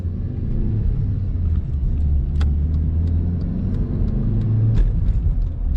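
A Chevrolet Vectra B GLS with a GM 110-horsepower engine runs steadily nearby, a low, even rumbling hum with faint ticks and small swells, no voices over it.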